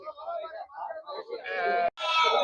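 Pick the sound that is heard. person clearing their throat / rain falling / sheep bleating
sheep bleating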